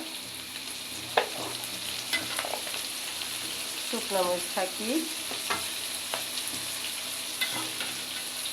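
Prawns, onion and ginger-garlic paste fry together in a pan, a steady close sizzle under scattered spoon scrapes and stirring clatter while a voice speaks briefly.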